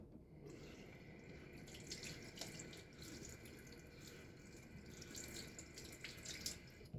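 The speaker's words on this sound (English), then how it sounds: "Let's rinse off the tub." Tap water runs steadily into a sink to rinse out a shaving soap tub, a continuous close splashing flow with small drips, lasting the whole time with no voices.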